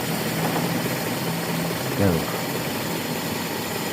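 A carbureted motorcycle engine idles steadily on an over-rich mixture, a low continuous rumble with a brief louder burble near the middle, heard up close.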